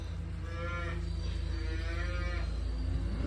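A cow lowing in a barnyard gives two drawn-out moos in a row, close and fairly loud, over a steady low farmyard rumble, with no talking.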